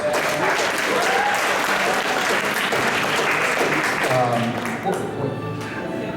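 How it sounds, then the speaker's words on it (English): Audience applause during a graduation skit, a loud sustained clapping from a crowd that begins to thin toward the end while a few voices and cheers rise through it. "Please give him another round of applause."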